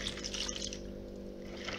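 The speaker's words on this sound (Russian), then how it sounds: "Сюда же я добавляю стакан теплой воды." A glass of warm water, about 200 ml measured in a faceted glass, poured into a bowl for pizza dough, a short continuous splashing trickle heard close and fairly quiet.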